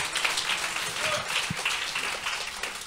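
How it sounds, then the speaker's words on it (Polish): Congregation clapping in a church, a continuous wash of applause at moderate distance, steady and fairly soft throughout. "I tomu dawajcie, my poaplodujemy im i skażemy wielkie brawo."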